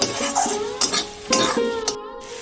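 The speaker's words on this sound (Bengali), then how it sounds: "এখন ভালো করে মশলাটাকে কষিয়ে নেব" Spice masala for egg curry being stirred and fried in a pan, close spoon scrapes against the metal in a quick uneven rhythm over a soft sizzle, ending abruptly.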